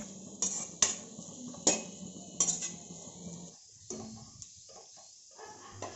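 Raisins fried and stirred in a pan, with sharp metal spoon clinks and scrapes against the pan in a quick irregular series over a soft low sizzle, close and fairly quiet, fading to sparser taps near the end.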